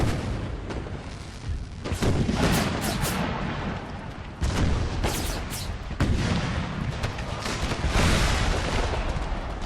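Musket volleys and artillery fire from an American Civil War battle in Empire: Total War, with dense crackling gunfire and heavy booms rolling on continuously and loudly, swelling in several sharp bursts.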